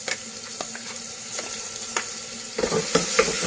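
Blended chutney sizzles in a frying pan for a Sindhi lotus root and potato curry, a steady hiss broken by sharp clicks and scrapes of stirring that grow busier toward the end, heard close with no talk.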